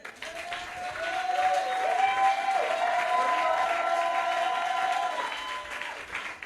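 A church congregation applauds during a sermon, its clapping swelling to a sustained, fairly loud ovation before tapering off, with a few voices and cheers mixed into the crowd.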